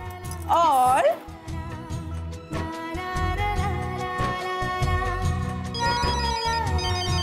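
A mobile phone ringtone plays as a melodic electronic tune, moderately close, heard alongside a voice and a background music score in a drama scene.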